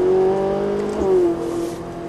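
A Ferrari 458 accelerates progressively in fourth gear on a track, its engine holding a steady tone that shifts and climbs slightly midway, loud and close from inside the car.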